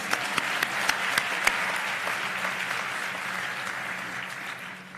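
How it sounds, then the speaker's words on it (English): An audience applauds at a medical white coat ceremony, a few sharp separate claps at first, then steady, moderately faint clapping from a crowd that tapers off at the end. "we can do an applause."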